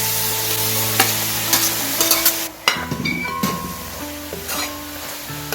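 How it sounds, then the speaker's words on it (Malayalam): Soya chunks in their cooking gravy sputter and hiss in a pan over a high flame, with close spoon scrapes and clatters as they are stirred and roasted down. "നന്നായിട്ടൊന്ന് ഇളക്കി വരട്ടിയെടുക്കണം. ഹൈ ഫ്ലെയിമിൽ ഇട്ടിട്ടാണ് ഇനി നമ്മൾ ഇളക്കി വരട്ടിയെടുക്കുന്നത്."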